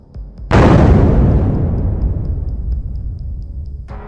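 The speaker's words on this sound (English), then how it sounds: "The drone hit moments before launch, turning a small ignition into a violent explosion." A rocket launcher hit by a drone erupts in a sudden loud blast that rumbles on and slowly fades over several seconds, with a faint regular ticking in the background.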